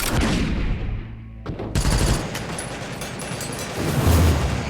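Dense, loud bursts of rapid gunfire from a weapon in the zombie shooter game Into the Dead 2, continuous and booming with short pauses between volleys.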